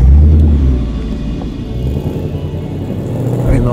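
A Ford Mustang Mach 1 pulls away, its engine a steady deep rumble that swells at the start and again near the end, loud and close with no talk.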